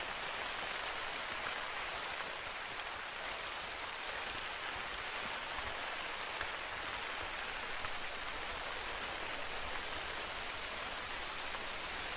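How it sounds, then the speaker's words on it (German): Steady, dense rain hisses and patters continuously in The Hunter: Call of the Wild, a broad even wash of drops on surfaces with no talk, close and constant throughout. "Oh, dieser Regen."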